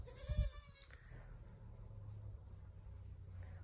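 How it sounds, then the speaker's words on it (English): A young goat gives one short, nasal bleat up close, followed by quiet low rumbling background noise. "Baby goats are pretty cool."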